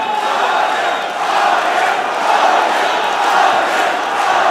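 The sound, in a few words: crowd cheering wildly at MMA fight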